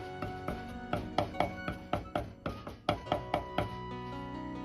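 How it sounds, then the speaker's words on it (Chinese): A knife chops garlic and ginger rhythmically on a cutting board, a steady series of sharp, close thwacks, about a dozen quick strikes with no talking. "大蒜和生姜适量，先拍破，然后再剁碎。"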